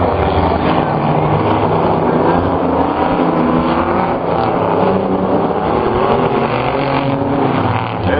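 Race cars in a figure 8 feature at Toledo Speedway roar continuously as a pack, engines blaring loud and constant with passing surges and a crowd-like wash behind them.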